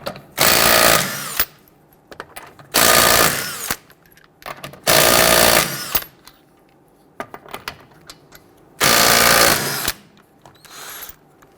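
A power impact tool loosening wheel lug nuts on a 2006-2012 Toyota RAV4 fires in four loud, close bursts of rattling hammering, separated by quiet pauses with small clicks and clatter.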